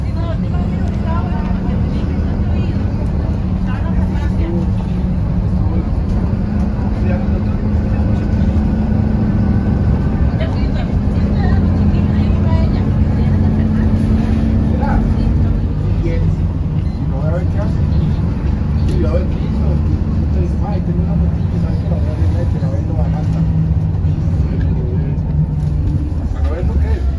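A school bus rumbles along a road in Costa Rica and slows to a stop at a stoplight before a one-lane bridge, its steady low engine drone filling the cab with people talking over it throughout.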